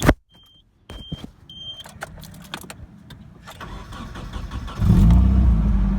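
Mechanical clicks and chimes, then a starter cranks and a Nissan 240SX engine catches, rising into a loud, steady idle rumble that continues to the end.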